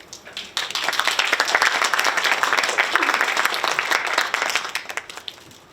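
An audience at an Indigenous art talk claps steadily to welcome the speaker, a dense burst of applause lasting about five seconds that fades out at the end.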